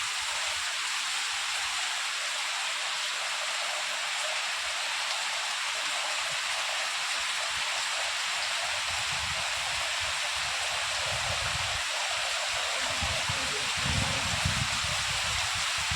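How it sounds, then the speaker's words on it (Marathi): Steady broadband hiss of the first monsoon rain falling in the Konkan countryside, a continuous even wash of drops that swells slightly toward the end, with no voices. "आता जरा जरा पाऊस कमी होता"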